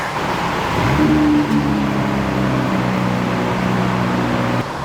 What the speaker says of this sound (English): So right now I started up the car. I'm trying to warm it up